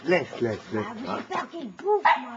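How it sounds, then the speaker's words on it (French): A playful dog at a family meal gives a quick run of short barks, yips and whimpers close by, rapid and excited over about two seconds. "il veut jouer le chien"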